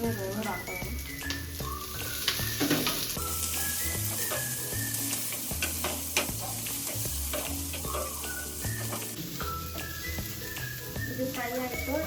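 Vegetables and coriander fry in a pan for vegetable palav, a continuous sizzle mixed with stirring scrapes beneath steady background music.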